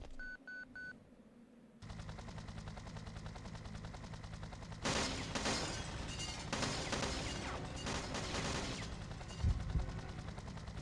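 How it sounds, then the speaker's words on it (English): Rocket launcher blasts and heavy explosions against Nikolai in Resident Evil 3: Nemesis on the original PlayStation, starting after a few beeps and swelling into a loud, dense stretch of booming impacts over a constant game rumble. "we have to take down Nikolai with the rocket launcher"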